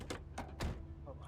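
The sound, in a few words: car door opening and closing in Project Zomboid video game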